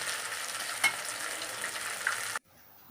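Fish fries in a pan with a steady, close crackling sizzle and a couple of faint clicks, cutting off abruptly into near silence near the end.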